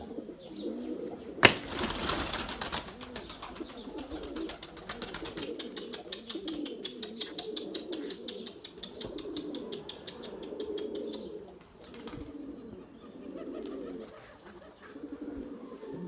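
A pigeon flies in, a loud burst of wing flapping, then lands on the ground, followed by softer fluttering and occasional coos with background noise and no talking.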